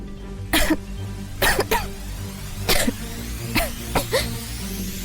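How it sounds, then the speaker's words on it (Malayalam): Persistent coughing from one person: five or six harsh, close coughs come in separate bursts at irregular intervals, with a low steady hum underneath. "നിർത്താത്ത ചുമയാണെങ്കിൽ കുറച്ച് ആവി പിടിച്ചാ മതി"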